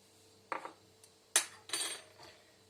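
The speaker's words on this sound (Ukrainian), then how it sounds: "І все це гарненько розмішую." A few scattered clinks and scrapes of a utensil stirring cold water, salt and dough ingredients in a bowl to a light foam, brief and close, in a quiet room.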